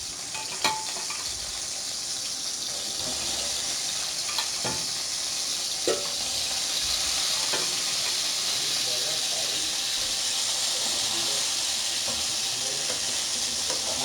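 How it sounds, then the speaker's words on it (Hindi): Chicken meatballs fry in hot oil, giving a continuous close crackling sizzle with scattered pops and occasional clinks of a utensil throughout, no talk. "अब हमने इसको मीट बॉल को फ्राई करना है। इसके लिए मैंने ऑयल डाला।"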